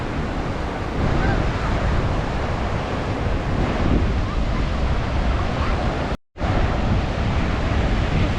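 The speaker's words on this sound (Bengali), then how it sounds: "প্রাণ ভরে হাওয়া খেয়ে নিই সমুদ্রের একটা শান্ত স্নিগ্ধ হাওয়া" Continuous roar of surf and waves at Mandarmani beach with heavy wind buffeting the microphone, loud and unbroken apart from one brief dropout.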